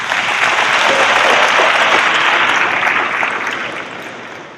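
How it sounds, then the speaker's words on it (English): Loud, sustained applause from a convocation audience for Mayor Dorothy Hubbard at an Albany State University homecoming, dense clapping holding steady and then gradually tapering off toward the end. "Let's give her a round of applause."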